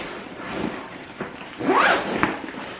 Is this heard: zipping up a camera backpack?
yes